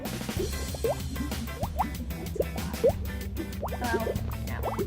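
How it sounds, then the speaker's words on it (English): Thick liquid Tide detergent is poured for slime-making, giving wet glugs, drips and small plops in an irregular stream, close and moderately loud with no talking. "So I'm going to pour the fluid."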